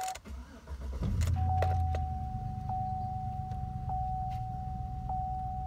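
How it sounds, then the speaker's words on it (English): A GMT800 truck's engine cranks and catches about a second in, then settles into a steady, fairly loud idle close by, with a few faint clicks and a thin whine above it; nobody speaks. "Let's go ahead and start the vehicle."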